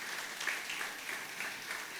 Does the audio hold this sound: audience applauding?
yes